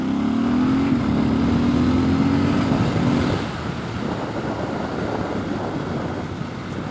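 A 2019 Triumph Scrambler 1200 with decat exhaust pulls at full throttle in second gear, the engine note climbing loud and steady for about three seconds before dropping off into rushing wind and road noise.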